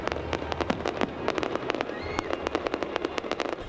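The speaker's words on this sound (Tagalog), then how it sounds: "Makulay na fireworks ang isinalubong sa Year of the Wood Dragon pagpatak ng hating gabi sa Jones Bridge sa Maynila" Midnight fireworks for the Chinese New Year, Year of the Wood Dragon, at Jones Bridge in Manila: rapid crackling bursts and pops rattle on continuously, with a faint whistle in the middle, heard from a moderate distance.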